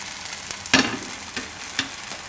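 Handvo batter made with poha, spread thick in an oiled pan to cook, giving a soft, low sizzle with a few brief scraping clicks from stirring, close by and with no voices.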